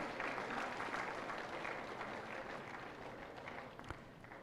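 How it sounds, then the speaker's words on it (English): Audience at a national-level World Elephant Day awards ceremony applauds a prize winner, a steady wash of many hands clapping at moderate distance, gradually easing slightly toward the end. "A big round of applause, please."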